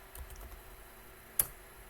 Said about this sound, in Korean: 이거 이제 키보드에서 그냥 치는 거예요.